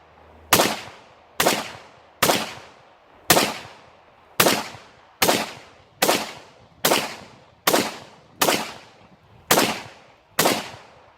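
An AKML rifle fires off the rest of its magazine: eleven sharp, loud single shots spaced about a second apart, each with a short decaying echo, no talking.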